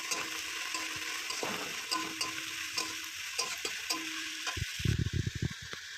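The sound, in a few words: stirring onion and chilli frying in a pan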